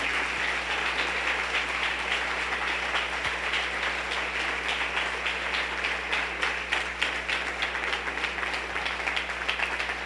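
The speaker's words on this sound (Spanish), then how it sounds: "denle un aplauso a nuestro rey" A church congregation claps and applauds continuously and steadily, a dense, even wash of hands throughout, with a low hum underneath and no talk heard.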